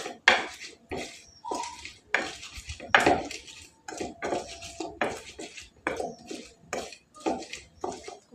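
Half-boiled genjer being sautéed in a pan, with repeated rhythmic scraping and clanking of a utensil against the pan in short bursts, close and fairly loud.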